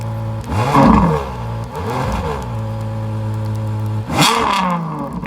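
A Ferrari GTC4 Lusso with a 6.3-litre V12 revs loudly nearby in three sharp blips, each rising to a howling peak and dropping back to a steady idle.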